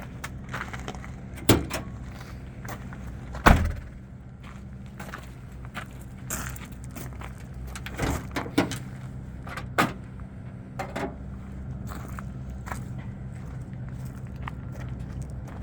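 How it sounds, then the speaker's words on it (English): During a pre-trip inspection of a Transdev cutaway-style bus, someone works the door and pops the hood. Scattered knocks, clunks and footsteps ring out at varying loudness, with a sharp bang near the start, over a steady outdoor hum. "I'm going to the door to check the e-brake and pop the hood"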